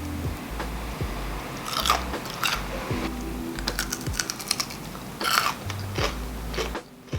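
Crunchy matcha plum cream sweets are chewed up close, a run of sharp, crisp crunches and bites in an irregular rhythm over a steady background hiss.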